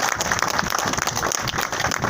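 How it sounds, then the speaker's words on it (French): Crowd at a union general assembly applauding, a dense burst of clapping heard close. "Je crois qu'on peut les applaudir parce qu'ils font un sacré boulot."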